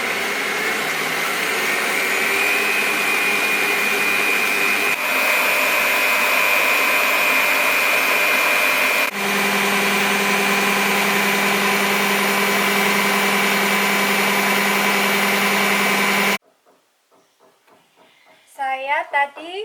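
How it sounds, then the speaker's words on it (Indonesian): Signora stand mixer running at speed 10 while beating sponge cake batter, giving a loud, steady motor whine with a shift in pitch partway through before stopping, followed by a brief snatch of talk. "Salah satu kekurangan dari mixer Signora ini adalah suaranya yang berisik"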